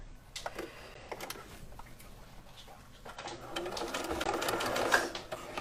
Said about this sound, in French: N'hésitez pas à diminuer la vitesse de votre machine à coudre si vous n'êtes pas à l'aise